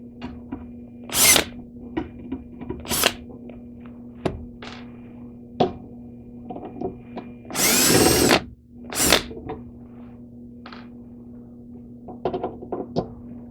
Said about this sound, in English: pull the screws out